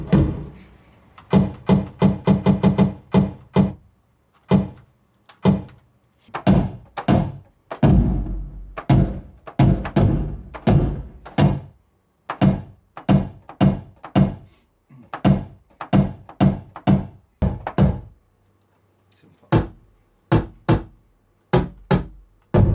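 A heavy door is struck again and again, giving a long series of loud, close, deep thuds and knocks. They come in uneven bursts with short silent gaps between them.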